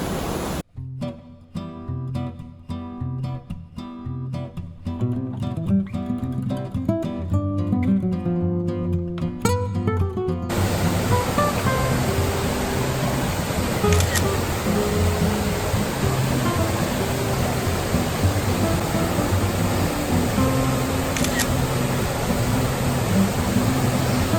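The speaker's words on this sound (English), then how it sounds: "The waterfall was loud" A loud, steady rush of falling water fills the scene, broad and continuous, with faint clicks and rustles early on.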